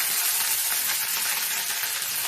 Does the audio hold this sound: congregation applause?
no